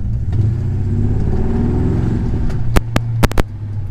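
A truck fitted with a Quadrajet carburetor accelerates hard in a 0 to 60 run, its engine droning low and steady, then three or four sharp, loud backfire pops crack out near the end.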